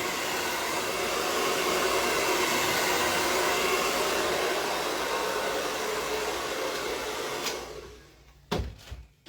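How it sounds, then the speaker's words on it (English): A hair blow dryer drying paint on an art project roars steadily at close range for several seconds, then switches off, leaving a few small knocks and handling noises. "Sorry about all the ruckus there with the blow dryer"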